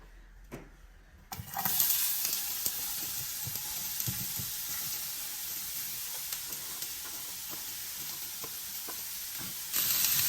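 Onions drop into hot coconut oil and fry with a loud, steady sizzle that holds throughout, with scattered crackles and a sharper burst near the end.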